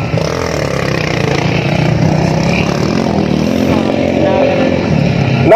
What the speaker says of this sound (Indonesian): The last lap of this motocross racing.